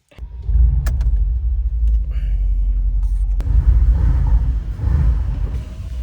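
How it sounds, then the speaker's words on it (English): A deep, steady V8 rumble from a Mercedes G500 4x4 Squared SUV in snow, loud and continuous with slight swells in intensity, heard from close by. "you can probably tell that this car has a V8"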